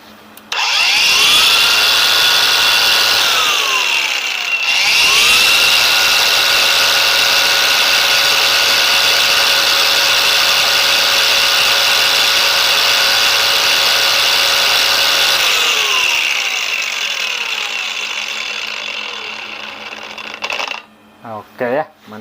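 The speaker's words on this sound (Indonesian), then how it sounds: "Dan kita coba langsung ke gerinda." A battery-powered angle grinder, assembled for pine resin tapping, spins up with a loud whine, stops briefly, then runs steadily for about ten seconds before winding down, close and alone with no talk.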